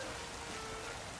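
Rain in the video game Pokemon Legends: Z-A patters as a soft, even hiss, a brief and faint steady wash.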